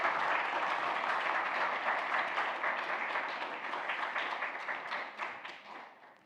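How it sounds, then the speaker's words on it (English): Church audience gives a woman a big round of applause, a full wash of many hands clapping that holds steady, then thins into scattered claps and fades toward the end. "give Mariam a big round of applause for that"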